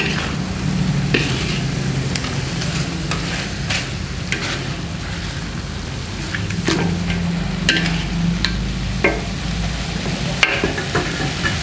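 Raw chicken cooking in a pan for Sukabumi-style roast chicken, a steady loud sizzle with scattered stirring clatter and splashes throughout, no voices.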